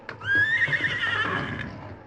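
A horse in a barn sheltering from a storm gives one loud, long whinny that wavers and fades, close and alone.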